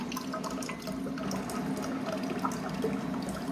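Hot water from a home hot water dispenser machine pours in a steady, close splashing stream, running continuously for a few seconds without speech.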